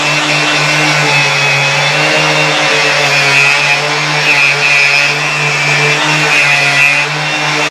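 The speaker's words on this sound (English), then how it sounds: "Right, let's start some sanding." Power sander running steadily and loudly in a workshop, a continuous motor whine with a strong low hum and a high harmonic whir, unbroken for nearly eight seconds before cutting off.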